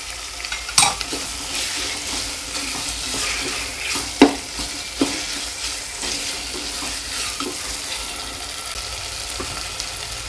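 Carrots and beans sautéing in a pan for rava kichdi, soft frying sizzle under repeated scraping and stirring strokes, with sharp spoon clacks against the pan, no voices.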